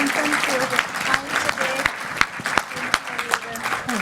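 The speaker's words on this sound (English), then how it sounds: "let's give our panel a big round of applause and thank them" An audience claps for a panel at an early childhood development session. The applause is steady and close, with sharp individual claps standing out and faint talk underneath.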